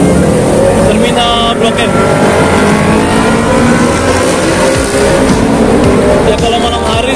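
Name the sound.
bus and traffic passing on city street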